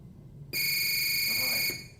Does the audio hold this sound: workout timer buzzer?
yes